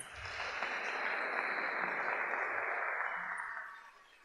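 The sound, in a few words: audience applause at a graduation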